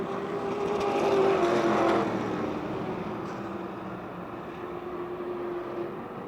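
Race cars running three wide down the back straight of a speedway, a loud continuous engine roar that swells as the pack passes, then settles to a steady drone.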